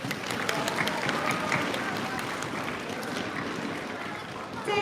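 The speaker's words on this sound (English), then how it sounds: "Big round of applause." An audience applauds at a speedcubing competition, with dense, continuous clapping from a crowd that carries on for several seconds at a steady level before easing slightly near the end.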